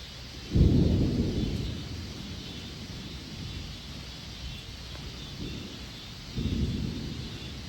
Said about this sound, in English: Listen for the thunder.